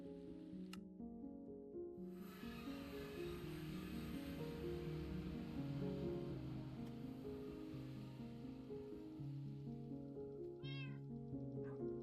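Meowing from a cat in the Minecraft video game sounds repeatedly over a continuous bed of game audio, with several short tonal calls spread across the stretch, moderately loud.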